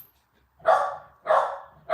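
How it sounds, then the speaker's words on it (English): A dog barks indoors at someone outside the door, three loud, drawn-out barks spaced about half a second apart with quiet between them. "somebody's outside my door, that's why Murphy's barking"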